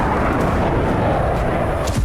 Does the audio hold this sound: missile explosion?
yes